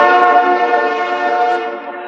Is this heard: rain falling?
no